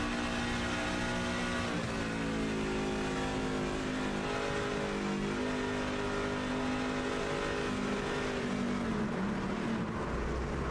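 Onboard engine of a race truck in an INVETS Trucks Series race at Indianapolis, a loud continuous drone with steady harmonic tones that hold and waver slightly, no clear shift, alone throughout.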